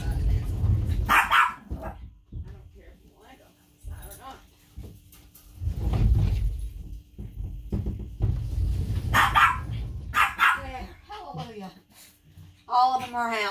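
Several dogs barking in a household with pups, in close bursts of sharp barks and yips separated by brief pauses, while someone talks in between.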